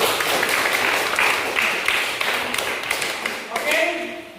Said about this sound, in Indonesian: Kasih aplaus buat kita.